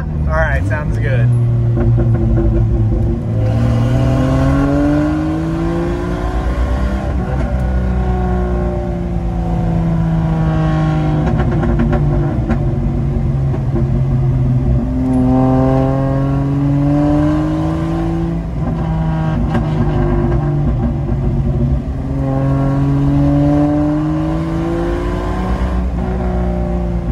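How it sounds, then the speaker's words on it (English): A Jeep XJ (Cherokee) with a 5-speed manual revs and pulls hard in second gear, its rumbling exhaust rising and falling in pitch, loud and close, with brief crackles and pops between shifts. "do a quick little pull and get some pops in there with the second gear"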